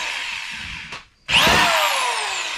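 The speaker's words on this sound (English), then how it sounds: "Zach is drilling." A power drill bores holes for a Nissan 350Z NISMO V2 style front bumper, its motor whining, stopping for a moment, then starting again with a rising high whir that settles into steady, loud grinding up close.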